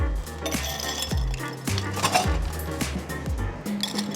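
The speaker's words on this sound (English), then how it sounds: "So I'm going to start off by pre-chilling the glass" Ice and glass clink and rattle as a glass is pre-chilled for a gin and tonic, several sharp close knocks in an irregular rhythm, with no talking.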